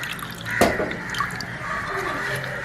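Tamarind dissolved in water is strained for rasam in a home kitchen, making soft dripping and trickling liquid sounds with one brief splash early on, close by and fairly quiet.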